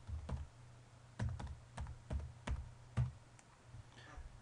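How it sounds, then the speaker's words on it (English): A username being typed on a computer keyboard at a login screen, producing a short run of soft, close key taps at an uneven pace in a quiet room. "The first thing I do is enter the username into the system."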